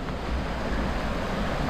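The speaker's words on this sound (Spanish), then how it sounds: "Miren qué bueno aquí como corre el agua" Water running through a stream in a small, secluded Spanish village, heard as a steady, fairly loud broadband rush that continues without a break and has no voices over it.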